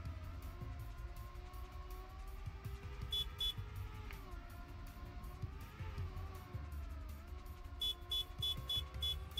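Car horn honking during a racing game match, brief repeated toots over a constant engine drone, moderately loud and with no talk.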